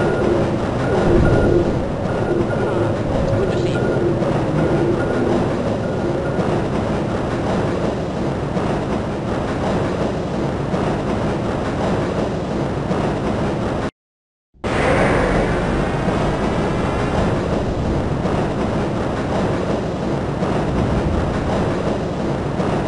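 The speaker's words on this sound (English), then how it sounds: "The train cannot be stopped." Runaway train speeding through the transit system in the Half-Life video game, a loud continuous rumble and clatter of rail cars with squeals, briefly cutting to silence mid-way before resuming.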